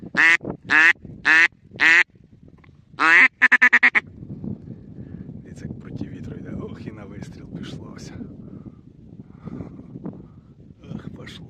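A series of loud, nasal duck quacks in quick bursts, with a decoy duck and a northern shoveler present during evening waterfowl hunting, followed by quieter outdoor ambience with faint distant calls.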